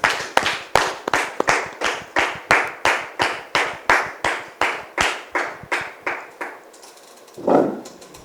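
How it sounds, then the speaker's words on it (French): Audience at a French-language TV show welcoming a guest by clapping in steady rhythmic unison, about twenty evenly spaced claps that stop suddenly, followed by a brief murmur. "Merci de recevoir notre frère Didier sous vos applaudissements"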